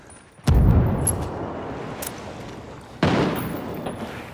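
A frag grenade blast in the tactical shooter Ghost Recon, a loud, close boom with a broad rumbling tail, followed about two and a half seconds later by a second heavy detonation amid ongoing gunfire.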